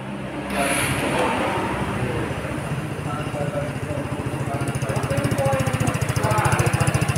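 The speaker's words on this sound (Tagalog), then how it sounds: "Ayan, oh, napaka-smooth po ng tunog ng muffler." A carbureted engine idling through a smooth muffler, a steady rapid low putter that grows slightly louder and more pronounced, nearby, with a voice talking over it at times.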